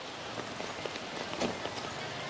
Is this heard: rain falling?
yes